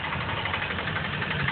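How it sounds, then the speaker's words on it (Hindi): Three-wheeler tempo engine running slowly at a village polling booth, a steady, loud, close mid-low idling rumble with even vibration throughout and no voices. "टेम्पो को स्लो चलाओ भाई"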